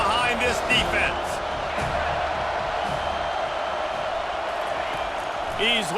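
A stadium crowd roars steadily in EA Sports College Football 25, a dense sustained wall of cheering beneath a commentator's voice.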